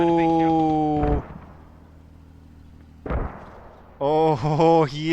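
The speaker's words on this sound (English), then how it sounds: "And I do hear them taking those shots. Mortars." Mortar fire in a video game match, with two loud, sharp blasts about two seconds apart, each tailing off into a low rumble, while a commentator talks before and after.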